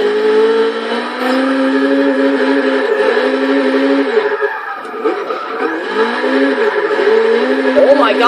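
A 1980 Fiat E23 Sport Spyder in Forza Motorsport 6 howls at high revs while drifting around a race track, its engine note rising and dipping with throttle and faint tire squeal, loud and continuous under a voice.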